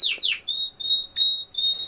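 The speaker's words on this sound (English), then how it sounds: "you might hear the birds in the background" Pet birds, including a cockatiel, chirping indoors: a rapid run of bright repeated tweets and whistled calls, fairly close and clear with no talk over them.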